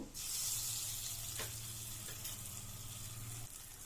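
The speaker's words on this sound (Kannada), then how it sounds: "ಇದನ್ನು 1 ನಿಮಿಷ ಲೋ ಫ್ಲೇಮಲ್ಲಿ ಇಟ್ಕೊಂಡು ಫ್ರೈ ಮಾಡ್ಕೊಳ್ಳಿ ಎಣ್ಣೆ ಜೊತೆ" Spices with turmeric, salt and pickle powder frying in oil over a low flame for an egg masala curry, a steady close sizzle with a faint stir partway through and no talking.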